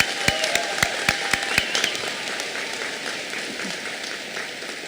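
Graduation audience at a 2024 high school ceremony gives a round of applause for students, a thin, reverberant clapping in a large hall, with a few sharp isolated claps early on before it fades to a steady murmur.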